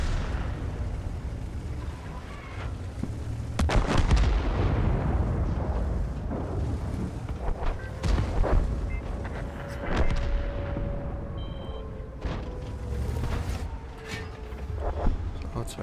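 Booming cannon shots ring out several times in the video game Frontline, heavy blasts spaced irregularly over a rumbling battle backdrop, with a voice talking between them.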